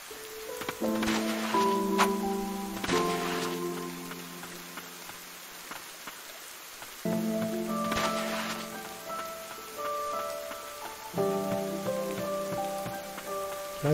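Soft, steady rain falls in the video game Ender Lilies, a quiet patter running under recurring melodic game music notes.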